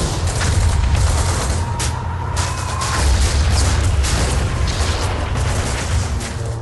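Rocket launchers, mortars and machine guns firing during the Omaha Beach landing, a dense, continuous battle din of booms, bursts and rattling fire, loud throughout with no clear gaps.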